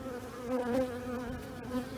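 A steady, close buzzing of many honeybees at a hive, with a wavering hum that swells and fades slightly, without any voices.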